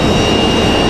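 The jet engines of a Delta Boeing 737-900 at the end of the runway at Raleigh-Durham airport roar loud and continuous, a dense, close rumble with a steady whine above it.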